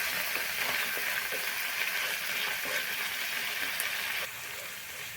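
Dry spices with turmeric and chili powder sizzle in oil in a pan for fish bhuna, a steady close crackling hiss that softens slightly near the end, with no talk.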